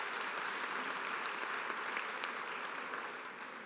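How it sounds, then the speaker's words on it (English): Sustained applause from an audience at a community presentation meeting, dense steady clapping from many hands that tapers slightly toward the end, with no talking. "so give them one more round of applause."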